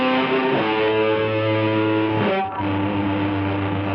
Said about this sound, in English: If a song were to end with a guitar solo, it might sound like this.